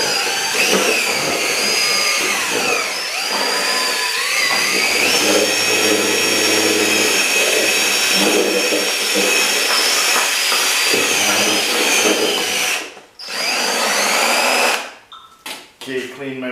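Power drill fitted with a mixer paddle whirring steadily as it blends urethane part B for a mold, loud and continuous with pitch shifts, then stopping and restarting in short bursts near the end.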